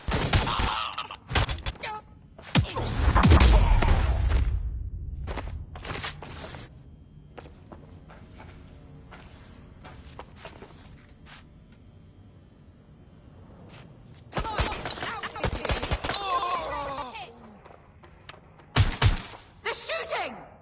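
Gunfire erupts in the video game Watch Dogs Legion with clusters of loud, sharp shots and bursts, including a heavy volley early on and more shooting later, mixed with impacts, shattering and in-game voices.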